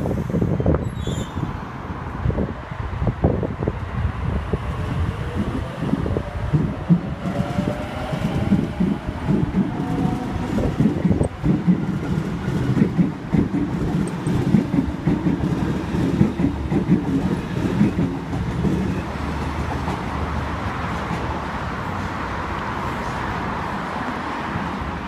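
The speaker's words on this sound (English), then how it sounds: "We have a V-set about to pass platform number 2 here at Milsons Point, empty." An empty Sydney Trains V-set intercity train passes platform 2 at Milsons Point, a long steady rumble and rattle of wheels and carriages building and fading over about 25 seconds, with some wind buffeting.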